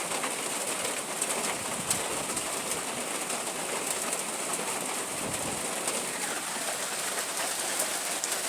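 Heavy rain with wind pours steadily and close on a surface, while a pet bird coos softly now and then beneath the downpour.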